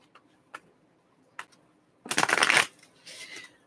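Tarot cards being shuffled by hand: a few soft isolated flicks, then a dense, loud riffling burst and a shorter, quieter follow-up shuffle, close and alone.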